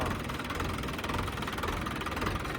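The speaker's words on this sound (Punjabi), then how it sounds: "ਬਾਈ ਟਰੈਕਟਰ ਦਾ ਇੰਜਨ ਪੂਰੇ ਦਾਣੇ ਗਿਣਦਾ ਹੈ" A tractor engine idles nearby with a steady, even low rumble and no voices.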